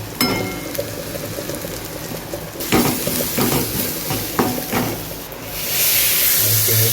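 Chilli powder and turmeric masala sizzle loudly in hot oil for a Konkani chicken vade meal, with a steady crackling hiss broken by stirring scrapes and a brighter surge of frying near the end.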